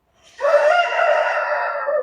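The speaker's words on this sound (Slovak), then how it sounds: "Dúfam, že vás kohútik neruší." A single loud, close rooster crow rises sharply and holds its strained, harmonic call for nearly two seconds before cutting off, heard clearly with no voices over it.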